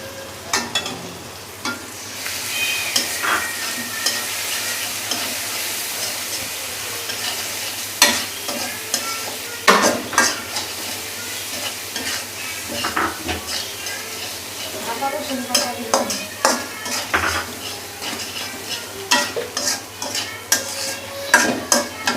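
A spoon stirs dried chili paste in a sizzling pan, with scraping strokes and metal clinks against the pot over a low hiss. Voices talk now and then in between.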